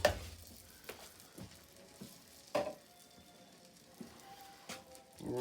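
Two cups of white jasmine rice hit melted butter in a pan, a quiet steady sizzle with occasional soft clinks and scraping stirs, close and fairly faint.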